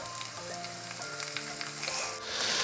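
Onions frying in a pan hiss with a steady, close, broadband sizzle that swells louder near the end, with no talking.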